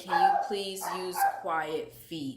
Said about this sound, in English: Sorry guys if you hear my dog in the background